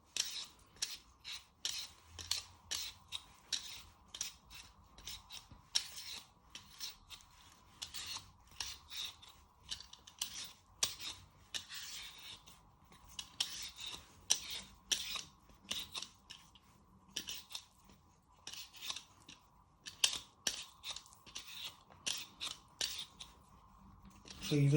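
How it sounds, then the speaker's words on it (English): A hand peeler scraping the skin off a carrot in a home kitchen, a quick run of rasping strokes repeating steadily and close, with the carrot turned between passes, over a faint background hum. "So you just keep peeling all the way around till you feel no skin on the carrot."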